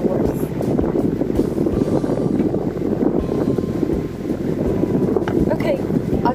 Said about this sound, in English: from a very windy Sorrento Park